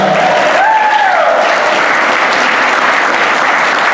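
Audience applause for a band at a night performance, broad and sustained clapping filling the whole stretch, close and fairly loud, with a brief whistle near the start.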